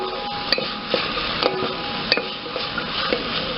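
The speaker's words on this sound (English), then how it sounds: "Add chopped onion and saute till they become transparent." Chopped onion sautéing in a pan after garlic: a soft steady sizzle under repeated light clicks and taps of a spoon stirring against the pan, fairly close and even.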